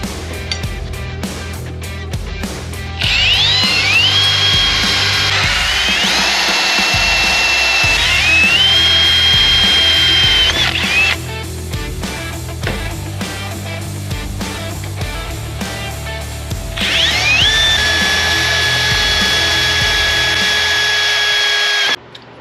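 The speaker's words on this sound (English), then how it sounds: "Now we're going to cut our 1/4 inch hole in the bottom here" A power drill bores a 1/4 inch hole in the bracket for a relocated windshield washer fluid reservoir on a Jeep Cherokee XJ, with two long, loud, close whining runs separated by a pause.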